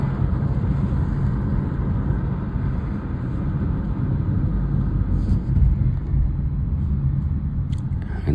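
Steady low road rumble from inside a car being tailgated by a white SUV, continuous and fairly loud throughout with no talking.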